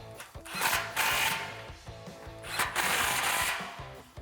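Exhaust pipe clamps on a 2017-2019 F150 Raptor's Borla muffler assembly are tightened with a power tool, which whirs in two sustained bursts with ratcheting tone, close and moderately loud.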